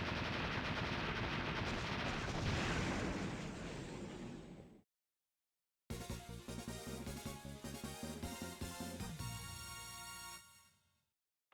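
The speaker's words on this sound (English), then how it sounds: "Man, these explosions are violent." Loud, dense bursts of explosions and gunfire from Mega Man X6 roar continuously, cut off by a short silence, then rapid repeated blasts resume before stopping abruptly.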